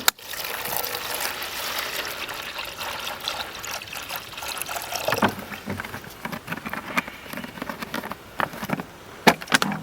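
Water poured onto calcium carbide gives a continuous fizzing, bubbling hiss with crackles and trickling, moderately close and steady for about ten seconds, with sharper pops near the end.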